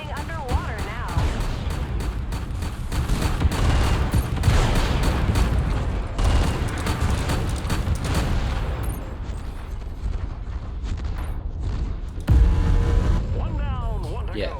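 Medium rifle gunfire in MechWarrior 5 DLC, rapid stacked bursts of layered recoil shots with booming impacts, loud and repeated through much of the stretch while someone talks over it.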